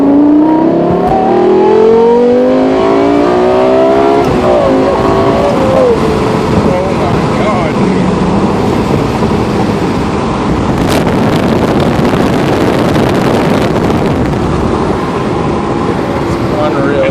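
A Lexus LFA under hard acceleration, its engine note sweeping up in pitch repeatedly through quick upshifts, loud and close inside the cabin with wind noise and a driver talking over it.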